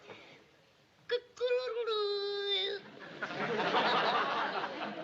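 A man imitates a rooster crowing in a sitcom scene, a loud, strained, wavering vocal crow lasting over a second, followed by studio audience laughter.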